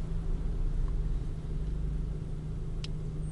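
A car cruises along Oktyabrsky Prospekt, a busy city avenue, giving a constant low road and engine rumble from inside the cabin with a faint brief tick near the end; no one speaks.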